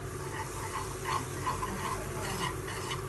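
Maida flour being sautéed with a spatula in a pan over a low flame, giving a soft continuous hiss with light, irregular scraping strokes, close and fairly quiet.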